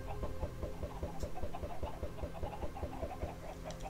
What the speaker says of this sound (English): it did give me a bunch of chickens